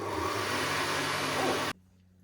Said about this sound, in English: So I'm just going to pull the cream in a mixer